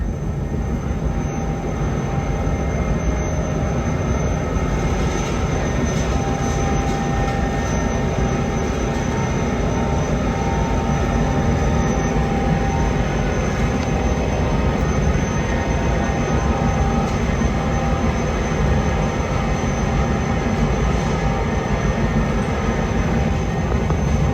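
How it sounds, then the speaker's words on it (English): A train consist, locomotives recoupled, moving through a railway wash rack of cleaning solution, water, powerful brushes and a high-pressure rinse gives a loud, steady, unbroken roar and hiss that holds without a pause, with no talking. "Once the locomotives are recoupled to the train, the entire consist is then run through the wash rack."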